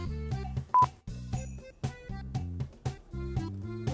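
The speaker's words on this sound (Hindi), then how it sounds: "फिर फोन आ रहा यार" Mobile phone ringing with a repeating tonal melody in short rhythmic bursts, close and clear with no talking over it.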